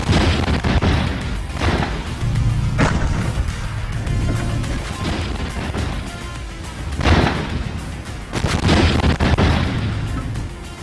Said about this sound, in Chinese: 刚才听到第一声炮声